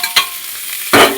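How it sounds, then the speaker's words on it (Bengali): Vegetables sizzle in hot oil in a pan for Maggie noodles, with two sharp scraping stirs, a brief one near the start and a louder, longer one at the end, over a steady close frying hiss. "ভালো করে ভেজে নেবো।"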